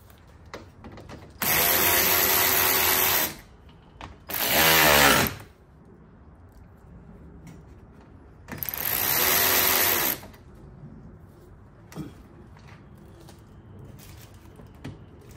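A power driver tightens the headlight screws on a 2015 Nissan Altima, with three loud whirring bursts of a second or two each, one ratcheting as it seats, separated by quiet pauses and light clicks.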